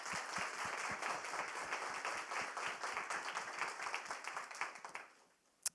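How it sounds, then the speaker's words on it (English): An audience at a customer experience panel event gives a steady round of dense applause that holds for about five seconds and then fades out. "just a round of applause to all of you"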